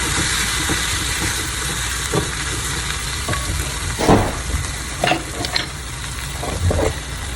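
Tomatoes frying in a pan for a keto low-carb dosa, with a steady sizzle and occasional stirring clatters.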